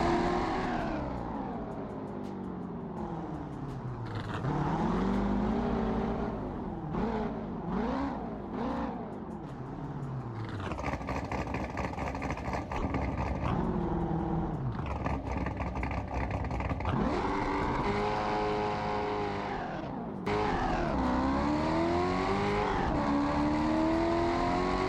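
A Corvette C6 ZR1 in the BeamNG Drive racing game revs hard and accelerates through repeated gear changes, its engine note rising and falling loudly, with bursts of tire squeal and skidding and no talk.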